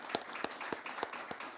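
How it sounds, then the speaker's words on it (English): Faint, steady applause from an audience at a gathering celebrating a new owner, with dense clapping and a few louder individual claps standing out, heard alone without talk. "let's give them a round of applause because that's why we're here today"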